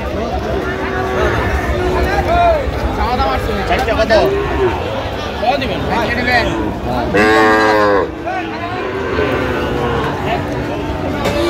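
Young bull calves moo repeatedly at a busy cattle market, several close, drawn-out calls rising over constant crowd chatter and nearby talking.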